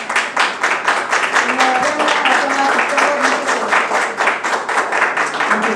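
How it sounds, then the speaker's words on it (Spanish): Audience applause at a congress closing in the Palacio Legislativo de San Lázaro, Mexico City, a dense, steady round of clapping from many hands with a few voices underneath, sustained and fairly loud. "Un aplauso, por favor."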